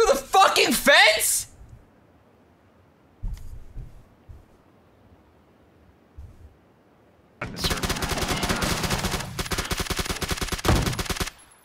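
Rapid automatic gunfire in the battle royale game PUBG: a short burst at the start, then a long sustained stream of loud fire filling the last few seconds, with a quiet stretch between holding a few soft thuds.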